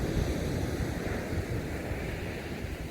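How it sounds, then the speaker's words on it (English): Sea waves break on a shore while wind buffets the microphone, a steady loud wash of surf and gusts during sea fishing as the wind eases, with no talking. "The waves have dropped."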